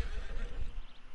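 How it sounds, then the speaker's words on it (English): A horse in the game Red Dead Online lets out a brief, close whinny with a rough, low snort-like body, heard on its own. "My horse is freaking out."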